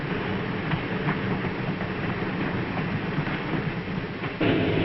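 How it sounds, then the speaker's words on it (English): A Santa Fe Super Chief train pulled by a huge locomotive begins to roll, a steady low rumble of rail and machinery running continuously at moderate loudness, with a brief louder surge near the end. "The huge locomotive sets the train in motion,"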